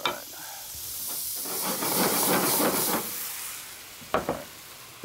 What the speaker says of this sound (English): This is going to make a little noise, and it's going to sizzle a little bit.